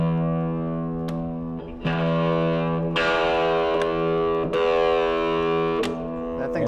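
Electric guitar with a mud tone switch engaged, playing distorted sustained chords with a thick, dark tone, struck several times with the notes ringing between strikes.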